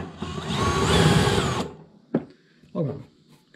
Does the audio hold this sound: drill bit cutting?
yes